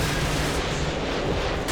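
Continuous heavy gunfire in Call of Duty: Modern Warfare 2, a dense, loud roar of shots and blasts with no breaks, sounding like sustained fire from above rather than single cracks.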